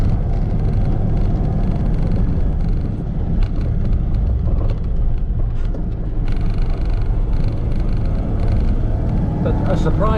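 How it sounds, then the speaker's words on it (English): Steady road traffic on a quiet coastal road through cultivated land and vineyards, a continuous loud rumble of passing vehicles filling the whole stretch with no gaps, with faint voices underneath. "But a surprising amount of traffic."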